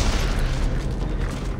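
Rocket explosion in the video game Dead Space 3, a loud rumbling boom that fills the short moment and rolls on as a dense low roar.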